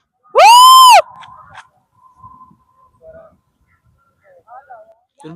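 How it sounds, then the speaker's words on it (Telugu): A single loud shout rings out across the Eco Point valley, followed by several faint, fading repeats of the echo over the next few seconds. "మా అరిసిన అరుపు అనేది 3-4 టైమ్స్ రివర్స్ రివర్బ్ అయ్యి వస్తుంది"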